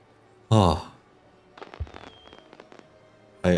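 Fireworks in a Civilization-style strategy video game: two loud bursts bracketing a stretch of faint crackles and pops, with a voice talking over the game sound.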